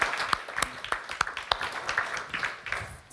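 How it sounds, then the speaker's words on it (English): An audience applauds to welcome a speaker onto the stage at a policy event, a steady patter of claps with distinct sharp hits standing out, heard fairly close and without talk. "Let's welcome him with a big round of applause"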